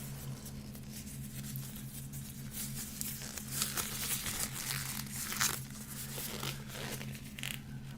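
Gloves are pulled on before handling trading cards, giving soft crinkling and rustling with small snaps and brushes, faint and close, continuing steadily under a low background hum.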